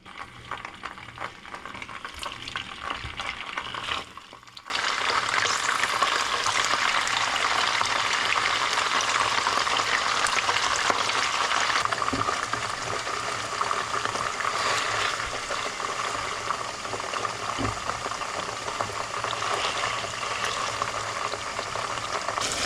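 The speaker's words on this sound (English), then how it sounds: "So a shallow pan of oil is sizzling." Tofu fries in a shallow pan of hot oil, a steady, dense sizzle that starts after a quiet moment and crackles continuously at close range.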